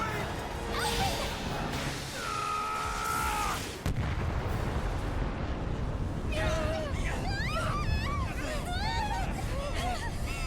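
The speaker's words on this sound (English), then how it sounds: "Well, that was a kaboom." Explosion in Tales of Arise, a loud, dense blast and rumble with crashing debris sounding under game effects, background music and voices talking.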